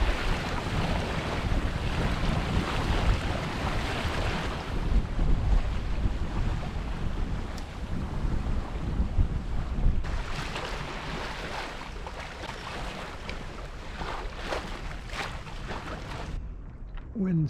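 A 20-foot Norfolk Gypsy sailboat sailing single-handed up the coast, with steady rushing water and heavy wind buffeting the microphone throughout, close and loud, easing slightly in the second half.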